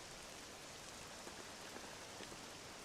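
Steady soft hiss of falling rain with faint scattered drop ticks, quiet and even throughout, no voices.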